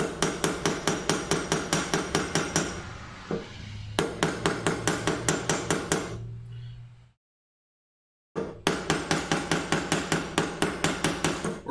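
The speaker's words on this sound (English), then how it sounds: "you have to kind of draw them out with a hammer" Rapid, evenly spaced hammer blows ring out on thin metal pieces being drawn out, loud and close, in long runs broken by a brief pause and a silent gap before hammering resumes.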